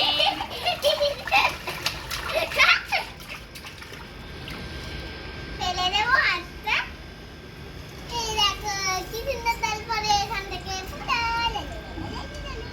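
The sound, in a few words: child splashing water in bath tub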